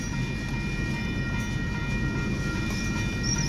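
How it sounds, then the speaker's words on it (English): An oil train rumbles steadily past a railroad crossing at close range, a continuous low roar of rolling tank wagons with faint metallic squeals and no talking. "This must be a oil train,"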